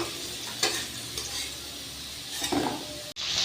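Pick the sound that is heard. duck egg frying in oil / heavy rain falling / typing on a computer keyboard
duck egg frying in oil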